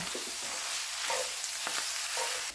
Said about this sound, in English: All right, I'm gonna stir this together.